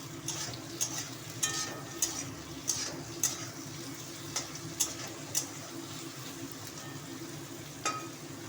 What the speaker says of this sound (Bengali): আলুগুলো দিয়ে একই সাথে ভাজা ভাজা করে দেব